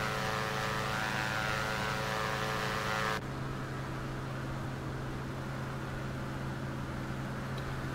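Steady drone of an aircraft engine in a flight simulator game near an airport, a continuous close hum that shifts to a slightly lower, smoother tone partway through, with no talking.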